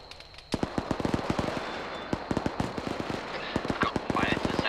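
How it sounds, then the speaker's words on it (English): Sharp gunshot cracks in irregular bursts during a military field training exercise, a task force drill with fire and maneuver, some shots close and loud over a steady background hiss. "Got fire to the southwest and snaps over my head here."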